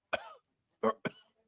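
Three close, harsh coughs: one single cough, a short pause, then two more in quick succession.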